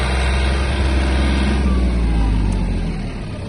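A Yanmar F-180 Japanese mini tractor engine accelerating, droning steadily at close range, low and rumbling, its pitch holding then easing slightly near the end.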